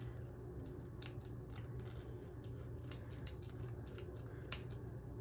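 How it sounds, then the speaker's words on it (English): Scissors snip through wig lace in a zigzag, a quick run of faint, crisp clicks and cuts over a steady low background hum, close and without talk. "you kind of cut like zigzag or like weird ways to make it look a little bit more natural"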